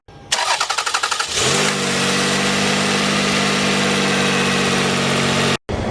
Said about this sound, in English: Run the engine for a few minutes with the heater on hot.